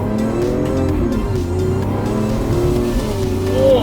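Lamborghini Aventador SVJ engine revving loudly and steadily close by, its raw, unmuffled note rising and falling through gear changes with a strong low drone and a rising whine near the end.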